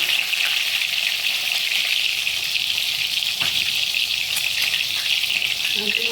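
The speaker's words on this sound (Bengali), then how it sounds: "তেলটা গরম হয়ে গেছে, আমি ডিমগুলো এর মধ্যে ভেজে নেব" Eggs frying in hot oil in a pan for egg curry produce a loud, continuous, close sizzle that holds evenly throughout, with faint clatters near the end.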